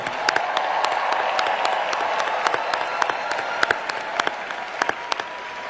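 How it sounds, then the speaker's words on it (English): Large crowd at a Howard University commencement giving a warm round of applause, dense continuous clapping with sharp individual claps standing out, loud and sustained throughout. "Please give them a warm round of applause."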